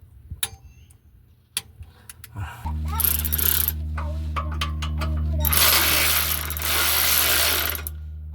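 A wrench clicks as a bolt on a Dodge B2500 van is torqued to 50 foot-pounds during rear main seal and oil pan gasket work, a few sharp ratcheting ticks over a steady low hum and broad noisy rushes.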